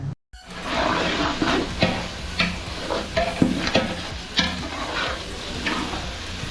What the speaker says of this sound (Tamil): வதங்குது வதங்குது வதங்குது வதங்கினே இருக்கு